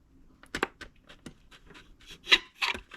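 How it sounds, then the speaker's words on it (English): Drainage holes are poked into the bottom of a plastic container, giving a series of sharp crinkling pops and scratchy taps, close and irregular, a few louder punctures among quieter ones. "I'm going to use that to just poke holes in the bottom of this plastic"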